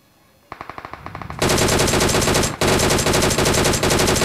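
Bursts of DP machine gun fire in the PUBG Mobile video game: a quick string of separate shots, then a dense, loud sustained volley with one brief break, with no talk over it.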